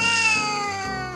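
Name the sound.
cat meowing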